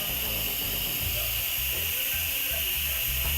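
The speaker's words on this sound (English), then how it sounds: "I just love the sound of the steam." A steady, loud hiss of steam released from an Instant Pot pressure cooker after cooking oxtail stew, continuous throughout, with a low rumbling undertone and no speech.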